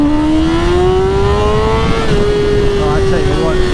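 A 2026 BMW M1000RR fitted with a full Akrapovic exhaust and BT Moto tune revs loud and close, a rising engine note holding steady with a short blip near the end.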